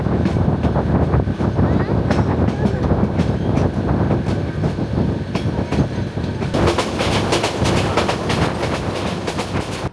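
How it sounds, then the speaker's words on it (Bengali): A passenger train on the Cox's Bazar to Dhaka route rolling out past Chattogram and gathering speed, heard from inside a carriage: continuous loud rumble with rhythmic clickety-clack wheel beats growing sharper toward the end. "ট্রেন আবার গতি পেল।"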